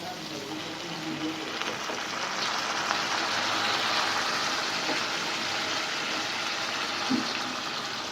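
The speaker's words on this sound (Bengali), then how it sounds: "জলটা আমি ঢেলে দিলাম।" Hot water is poured from a heated pot into a cooking pot of fish curry in a home kitchen, a steady close gushing splash lasting throughout.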